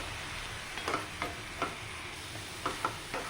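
Melted jaggery filling for kozhukatta is stirred in a pan, with faint, intermittent scraping strokes over a soft, steady sizzle.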